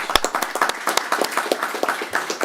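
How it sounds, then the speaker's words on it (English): Clapping from a small audience at a transit board meeting welcoming a new board member: a handful of people clapping in a sparse, uneven patter, fairly close and brief, with no talk. "Let's give him a round of applause."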